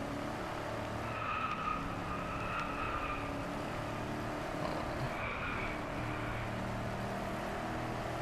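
Race car in the Driveclub video game sliding off the track, a steady engine drone with faint tire squeal tones rising and falling over several seconds, no voices.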